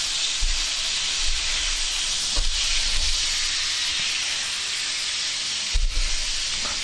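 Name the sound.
ribeye steak sizzling in pan while being basted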